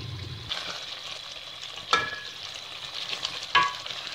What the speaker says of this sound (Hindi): देखिए फ्राई होना शुरू हो गया हमारा। इसका ऑयल बाहर आ रहा है